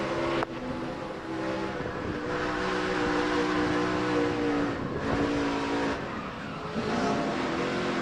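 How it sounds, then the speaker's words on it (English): Engine of a NASCAR race truck during a crash at the 2005 Quaker Steak & Lube 200, heard as a continuous loud racing roar with the throttle rising and falling, tire skid noise and brief impact-like bursts, no talk. "Let's see what all he does with the throttle in this truck when he gets hit."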